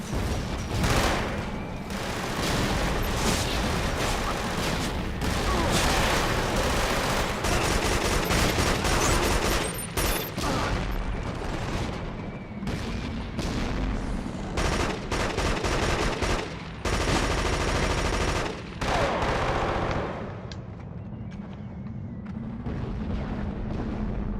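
Light machine gun fire in a video game, a long, loud, almost unbroken stream of rapid automatic shots mixed with heavier booms, thinning out toward the end.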